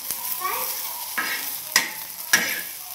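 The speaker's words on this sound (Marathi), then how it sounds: "आता चांगल्या मिरच्या भाजल्या" Green chillies roast in a pan for thecha, giving a soft sizzle broken by a few sharp scrapes and knocks as they are stirred.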